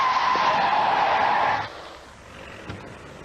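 Car tires skid in a loud, sustained screech for about a second and a half, then cut off abruptly. A quieter rumble and a brief knock follow as the car stops, with an unconscious driver at the wheel.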